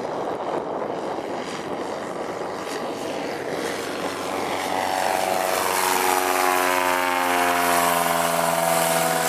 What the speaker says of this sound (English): these aircraft are taking off all the time. This is the biggest float plane base in the world.